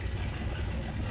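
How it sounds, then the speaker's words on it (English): A Road Runner and a Cobra Jet Mach 1 idling in Car Mechanic Simulator 2021, heard as a brief, steady low engine rumble with no voices. "Oh, they both got really good idles on this thing."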